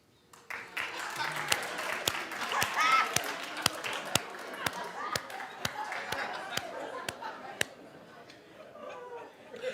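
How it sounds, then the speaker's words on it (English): A talk-show studio audience claps in a steady rhythm of sharp, evenly spaced claps over a broad wash of applause and voices, fading toward the end while people talk. "Clap if you think he looks handsome."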